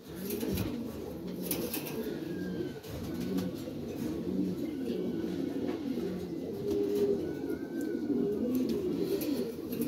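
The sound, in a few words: Lahori pigeons cooing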